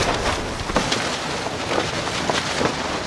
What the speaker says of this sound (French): Soudain, le vent forcit.